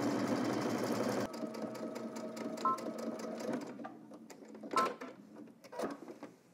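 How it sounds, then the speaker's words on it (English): A sewing machine stitches a 5/8-inch seam on a garment, running in a fast steady whir at first, then slowing into quieter, irregular bursts of stitching with small clicks. "We're gonna stitch across using 5/8 of an inch seam allowance"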